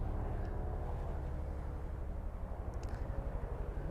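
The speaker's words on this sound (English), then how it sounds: "if you can hear me over the helicopter" A helicopter passes overhead above a garden of seedlings, heard as a fairly faint low rhythmic rotor thump that grows more pulsing toward the end, with no speech.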